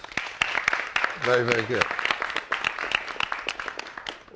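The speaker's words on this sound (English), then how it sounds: "Another big round of applause," Sparse, uneven clapping from a small audience at a smoke-free video awards event, close and sharp, with a voice speaking briefly in the middle.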